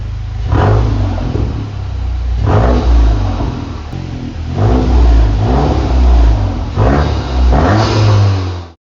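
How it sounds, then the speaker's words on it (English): A Mk8 VW GTI with its stock exhaust revs up repeatedly, rising and falling in several loud, close surges with a deep rumble underneath. "This is what the exhaust sounded like before."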